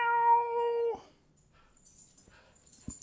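A single close, loud meow from a cat indoors, drawn out for about a second. Faint rustles and small sounds follow in near quiet.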